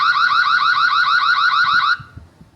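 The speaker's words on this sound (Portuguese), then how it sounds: "Tem áudio nos dois sentidos, tem também um alarme." Alarm siren from a Reolink Duo 3 WiFi security camera, a loud, fast warbling electronic wail with rapid pitch sweeps that runs steadily for about two seconds, then cuts off abruptly, leaving faint low background noise.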